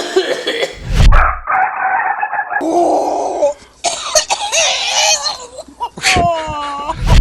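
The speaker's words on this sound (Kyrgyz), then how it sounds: "Кыйкырып келатып, жөтөлүп кетип атат да." A rooster with tuberculosis starts a loud, close crow that breaks off into harsh, wheezing coughs, with strained calls between the coughing fits.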